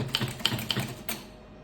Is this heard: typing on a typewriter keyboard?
yes